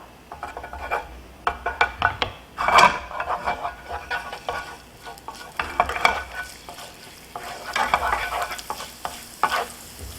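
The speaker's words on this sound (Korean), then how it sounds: "마늘 넣고요. 향이 좀 나면 양파 넣어주시면 돼요." Garlic sautés gently in a pan for seafood tomato spaghetti, a soft steady sizzle punctuated by repeated close stirring scrapes and clinks of a utensil against the pan, without talking.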